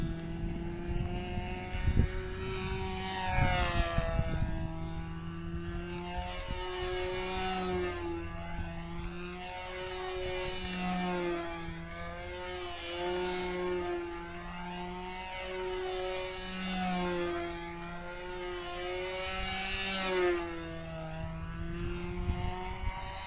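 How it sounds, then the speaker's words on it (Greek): A Canadair CL water-bomber flies a display program, its engine drone swelling and fading with sweeping pitch changes as it makes passes overhead, heard from a distance for a steady stretch with no talk. "Ο πιλότος εκτελεί όλο το πρόγραμμα του CL."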